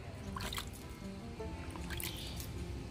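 Water poured gently from a watering can onto tiny young vegetable seedlings in an organic home garden, giving a soft, continuous trickle with light drips and splashes throughout, fairly quiet and steady.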